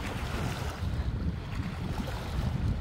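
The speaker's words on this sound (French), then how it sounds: "Le bruit des vagues." Ocean waves in a warm wind on the Greek coast, a steady wash of surf with gusting wind buffeting the microphone and no voices.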